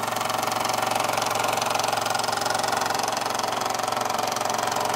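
A 1935 Doll model steam engine, methylated-spirit fired, runs at a fast steady clip, giving a continuous close mechanical whir and rapid rhythmic chuffing that holds an even level throughout without any voices.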